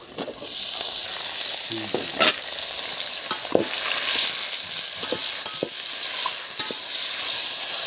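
Tomatoes tipped into a chicken biryani pot over a wood-fired stove and stirred, a steady bright sizzle with scattered scraping knocks of the spoon.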